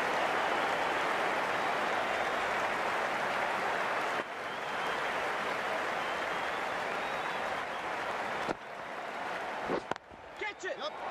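Crowd applause in a cricket video game, a steady dense wash of clapping and cheering that runs loud throughout, briefly dipping and then thinning toward the end, with a commentator's voice over it.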